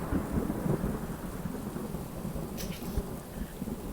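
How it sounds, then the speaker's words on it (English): Thunder rumbles low and continuous over steady falling rain in a VR fishing game set on a lake, a deep rolling roar without speech. "It's also thundering."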